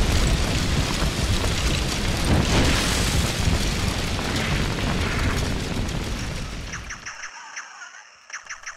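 Rapid bursts of gunfire and booming impacts from the Nintendo DS Duke Nukem game, loud and dense, then fading into sparse electronic game effects.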